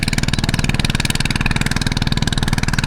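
A plowing tractor's engine chugs steadily at a rapid, even idle-like rhythm, close and constant throughout.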